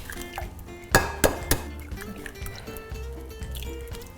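Eggs cracked for a bacon egg foo young omelette: three crisp, close taps in quick succession against a bowl or pan edge, followed by softer, faint handling sounds.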